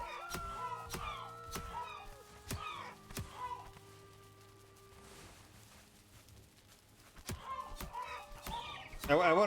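Chickens cluck repeatedly in a Valheim Mistlands survival game, a series of short sharp clucks and squawks grouped at the start and end, with a quieter stretch between them and no speech.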